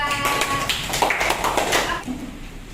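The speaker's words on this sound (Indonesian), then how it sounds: "Tepuk tangan untuk kelompok 2." A classroom audience claps for a student group during a teaching practice lesson, a dense burst of hand claps and taps that fills the opening and fades out after about two seconds.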